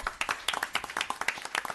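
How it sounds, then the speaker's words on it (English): A small audience at a town board meeting claps for a woman, a brief burst of scattered, uneven handclaps from several people nearby. "Let's give her a round of applause."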